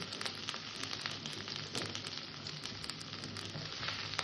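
Poppy seed paste sautéing in a pan gives off a faint, steady sizzle with a hissy, static-like texture, quiet and continuous throughout with no voices.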